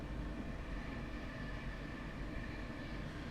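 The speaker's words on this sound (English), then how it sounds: "I'm going to apply the power again to the train." A Mk4 DVT train powering up in Train Simulator, running on the line from Peterborough to Kings Cross, gives a steady low rumble and drone with a faint hum above, constant and unbroken throughout.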